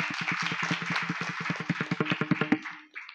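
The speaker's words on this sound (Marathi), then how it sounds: "वाजवा टाळ्या." An audience at a kirtan claps in a quick, even rhythm that builds louder over about two and a half seconds and then breaks off.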